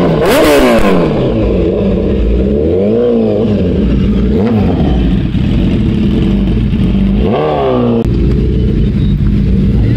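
A Suzuki Hayabusa motorcycle engine revs loudly and close, its pitch sweeping up and down in several surging blips over a steady, throaty idle with no talk.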